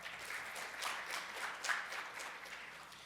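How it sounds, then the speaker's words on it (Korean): An audience at a business conference session gives a steady round of applause, a dense even wash of many hands clapping, moderately distant and continuous throughout. "다시 한번 큰 박수 한번 부탁드리겠습니다"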